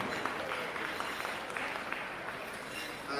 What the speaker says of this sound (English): And yeah, one more round of applause.